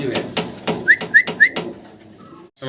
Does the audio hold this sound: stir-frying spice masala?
no